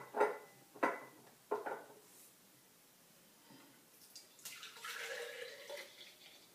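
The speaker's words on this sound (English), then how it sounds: "I'm going to go ahead and start pouring them in some jars" Turmeric, ginger, lime and honey tonic is poured into jars, giving a few soft splashes and glugs at the start, then a quieter trickling stream of liquid later, faint and close.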